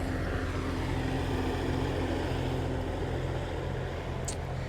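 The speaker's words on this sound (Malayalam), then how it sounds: "വരുന്നത് ഡ്രോൺ." A heavy-duty agricultural spraying drone flies over a corn field, giving a steady droning propeller hum that holds at an even, moderate level for the whole stretch, with no talking.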